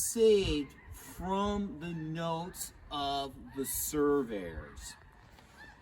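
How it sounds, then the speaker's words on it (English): Geese fly over a Louisiana swamp, honking in several distinct, nasal calls of moderate loudness. Someone speaks over the calls. "you can hear the geese overhead"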